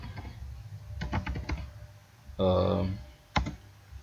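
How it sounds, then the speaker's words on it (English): Keystrokes tapped on a computer keyboard while setting up custom key mappings in Virtual DJ 8, scattered clicks in short bursts, with a louder spell of talking in the middle. "we're going to type in crossfader"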